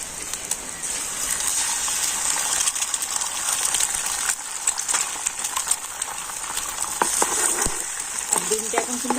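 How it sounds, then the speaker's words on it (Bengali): An egg cracked into hot white oil with vegetables fries in a pan, giving a continuous bright sizzle with occasional spatters and small clinks, close and without talk. "তো ডিমটা ফাটিয়ে এখন তেলের উপর দিয়ে দিচ্ছি।"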